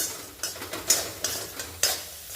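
Chana dal and jaggery being stirred together in a pan for Maharashtrian purnache dinde: a few close scraping strokes of a spoon over a soft sizzle, with no voices.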